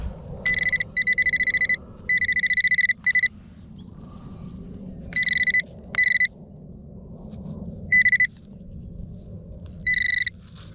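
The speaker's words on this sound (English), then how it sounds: "The sound coming off the detector on this clod is a very crisp and tight 46" A metal detector gives repeated bursts of bright, tight electronic beeping as it sweeps over a clod of earth in a field, several clusters spread unevenly over a low rumbling background, with no talk.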